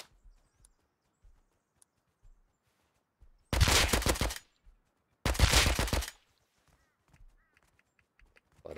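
Two bursts of suppressed AK rifle fire from the game Rust, each a dense rapid volley lasting under a second, loud against near silence with faint footsteps and clatter between.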